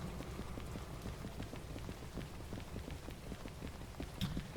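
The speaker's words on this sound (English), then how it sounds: "So it's raining." Rain falling in the Derail Valley train simulator, a steady broadband patter with scattered drop impacts, continuous and moderately quiet, with no talking.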